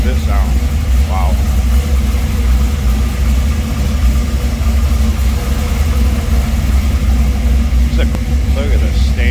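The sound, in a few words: 1953 Chevrolet 210 engine idling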